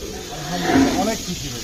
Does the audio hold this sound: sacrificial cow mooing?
yes